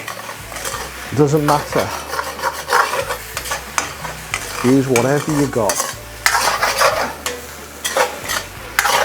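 Food sizzles and scrapes in a hot steel wok as a metal utensil stirs and tosses it, with bursts of clanging and hissing, and a brief voice in the middle.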